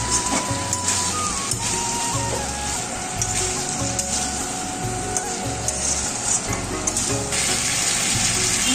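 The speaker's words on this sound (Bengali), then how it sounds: "সামান্য একটু শুকনো লঙ্কার গুঁড়ো দিয়ে দিচ্ছি, তারপর একটু নেড়ে চেড়ে নিচ্ছি" Mutton sizzles loudly in a pan with dry chilli powder added, a dense crackling hiss broken by rhythmic low thumps and scrapes of stirring, no voices.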